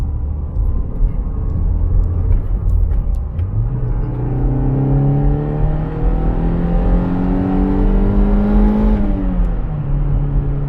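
Naturally aspirated engine of a Toyota MR2 revving hard, rising steadily in pitch to high rpm, then easing off and settling, loud and close with no talk.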